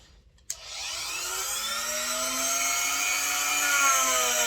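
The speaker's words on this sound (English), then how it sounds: "It's a rotary tool job." A rotary tool starts up with a sharp click and spins into a steady, high, whining buzz while cleaning the wheels of a Tri-ang R753 Class 81 model locomotive, its pitch rising a little as it speeds up, close and alone.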